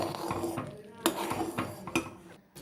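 Pan on a stove over medium flame with amla paste and jaggery syrup cooking, giving close, irregular clinks and scrapes of a utensil against the metal pan, with faint stirring noise between the knocks.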